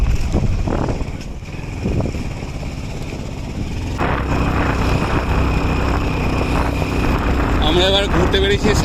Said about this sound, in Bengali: এই বাইকে করে পাহাড়ে উঠছি